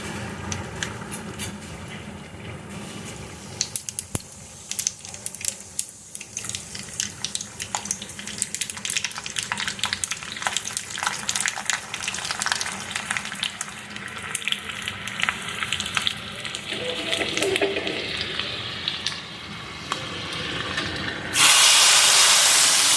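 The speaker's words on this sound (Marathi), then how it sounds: "आता फोडणी तयार करणार आहे." Tempering (phodni) for moong dal tadka sizzles in a small pan, a steady crackling hiss that continues with scattered pops and swells louder in the final seconds.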